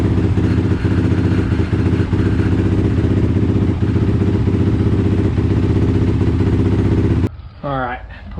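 A 2017 Honda CRF450R dirt bike engine runs loud and close at a steady rough idle for several seconds, then cuts off abruptly and a voice speaks briefly.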